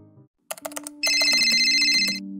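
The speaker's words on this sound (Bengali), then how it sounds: "এই সময় আবার কে ফোন করছে?" A phone rings indoors, a sustained electronic ringtone starting about halfway through, loud and close, after a few soft clicks and taps.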